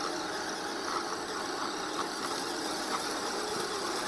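An off-road vehicle with a winch drives over grass in second gear, its engine a steady, moderately loud mid-pitched drone with faint rumble and rattle throughout, and no talking.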